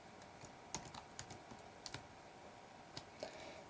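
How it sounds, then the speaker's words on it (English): Keys clatter on a computer keyboard during programming, quiet and close, with a handful of separate clicks spread unevenly across the stretch and no talking. "And for that, we have to type D"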